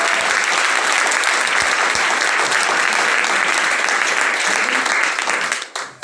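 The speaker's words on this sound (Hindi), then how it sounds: "इंडियन आर्मी के लिए तालियां नहीं बजना चाहिए।" An audience in a hall bursts into loud, dense applause for the Indian Army, sustained for several seconds before tapering off at the end.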